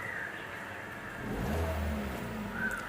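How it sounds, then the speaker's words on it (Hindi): A 2013 Hyundai Verna with a 1.6 engine idles with a power steering fault, a low, steady hum that swells briefly midway, heard from nearby without speech. "गाड़ी मैंने स्टार्ट ही रखा है"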